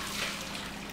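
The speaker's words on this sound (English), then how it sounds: "I'm going to use a colander to pour off the water" Water from a pot of boiled broccoli poured off through a colander in a kitchen, a steady hissing rush of liquid close by, continuous for the whole second with no talking.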